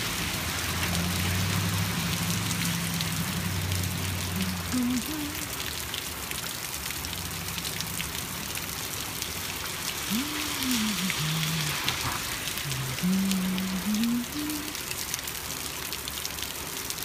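Steady rain with passing traffic on a wet street in Anaheim, including trucks, a continuous hiss of rainfall and tire spray with low engine hums rising and falling nearby throughout.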